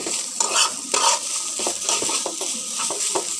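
Bitter gourd and green chilies being stirred in a frying pan, with loud, close, repeated scraping and clinking strokes of a spatula over a steady low sizzle, no talk.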